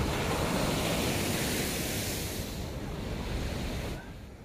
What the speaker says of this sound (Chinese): 现在涨潮以后呢，这海水直接到了岸边啊。